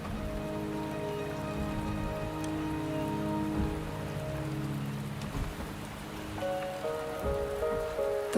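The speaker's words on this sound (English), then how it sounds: "The rain is subsiding," Steady rain patters on surfaces in the video game Wuthering Waves, a continuous wash of drops with a low tonal music bed running underneath and no voices.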